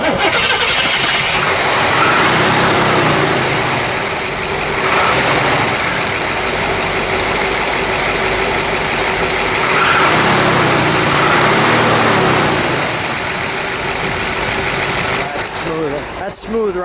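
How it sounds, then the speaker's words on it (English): A 1967 Chevrolet SS 427 V8 cranks and fires, then settles into a loud, steady idle with a couple of swells in engine speed; voices talk over it near the end. "let's start it up"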